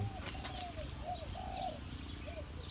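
A dove gives several soft, low cooing notes in a short series, somewhat distant, over steady outdoor background noise.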